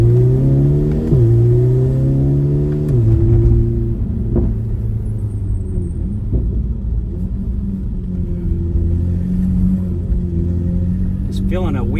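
A Chevrolet Corvette C8 on drag radial tyres accelerates hard, its engine note climbing, dipping in a brief bog, then pulling again with steady rumbling power, close and loud, with a voice speaking over it.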